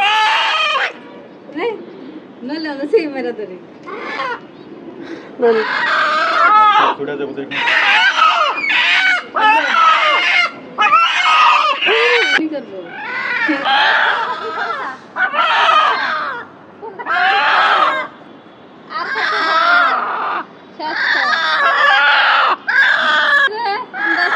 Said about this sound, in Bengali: এই জবাইয়ের কারণে মুরগি অনেক চিল্লাফাল্লা করতেছে, খুব কান্দাকাটি করতেছে